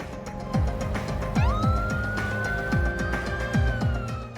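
An ambulance pulls away from a hospital casualty department, its siren wailing loud and close in a rising and falling electronic sweep over engine noise, with no talking.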